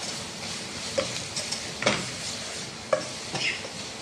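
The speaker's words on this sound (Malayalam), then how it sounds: "ഇതും കൂടെ ഇട്ടൊന്ന് പച്ച മണം മാറുന്നവരെ ഇളക്കാം" Masala powder and pepper powder fry in a pan while being stirred for a curry, a steady soft sizzle broken by a few sharp spoon scrapes and clinks.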